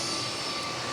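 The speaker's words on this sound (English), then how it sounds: "sorry for the engine noise, guys, but the crop dusters are going pretty hardcore today" Crop duster airplane engine roaring steadily nearby, a loud continuous broadband drone with no breaks, heard alone for a second.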